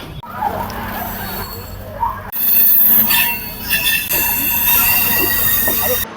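A train passes close by at a railway crossing, its wheels squealing shrilly over a loud rumbling roar that swells and continues.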